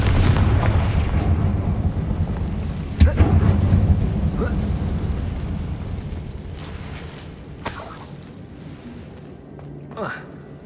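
A blasting-spell explosion from the Hogwarts video game: a heavy booming burst followed by rumbling debris and crackling echoes that fade over several seconds, with a few later sharp pops.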